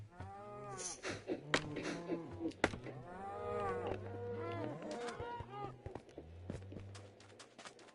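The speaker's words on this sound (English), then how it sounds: "Oh yeah, they're all still baby cows." Baby cows in Minecraft moo repeatedly, several overlapping calls rising and falling over about eight seconds, close and fairly loud, with soft footstep-like thuds between them.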